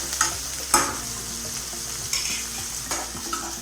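Tomato and onion fry in a pan for potato masala, a steady close sizzle broken by several scraping stirs of a spoon against the pan, with no talking.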